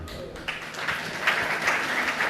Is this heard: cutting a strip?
no